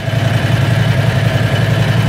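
A Predator 670cc small gasoline engine idles steadily nearby, a loud, even, rapid chugging with no voices.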